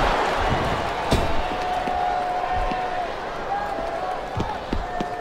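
Wrestling arena crowd in WWE SmackDown vs. Raw 2007 gives a steady, moderately loud cheering roar with scattered claps and thuds, continuing without pause.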